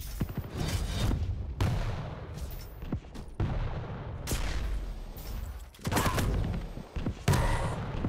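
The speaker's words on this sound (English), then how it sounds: "Oh, that was a good rocket from Cypher throwing BaSe off of where he was." Quake duel rocket launcher fire sounds as a series of sharp, booming rocket shots and impacts at irregular intervals. Brief gaps separate bursts of loud in-game combat noise.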